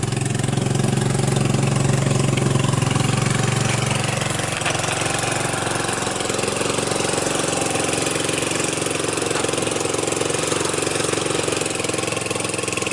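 A salvaged off-road go-kart's small engine runs loudly and steadily while the kart drives across a pasture, close up throughout, its rough droning note shifting slightly as the throttle changes.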